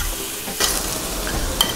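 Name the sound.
burger patty frying in a pan, being flipped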